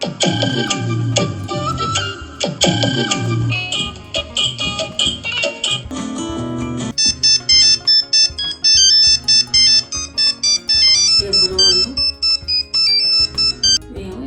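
A phone's ringtone plays alone as a loud melodic tune, its bright electronic notes repeating in a steady looping pattern throughout.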